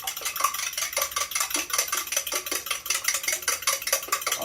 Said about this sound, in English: I always like to break the eggs and mix them up before I put them in.